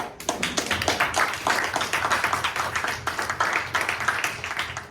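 A round of applause from an audience after an honours project presentation, dense overlapping clapping sustained loudly for several seconds.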